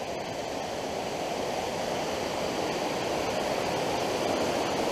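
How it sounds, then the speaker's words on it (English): Waterfalls along the Cascade River hiking trail rush in a steady, broad roar of falling water that holds at an even, fairly loud level throughout, with no voices. "You can see just more waterfalls."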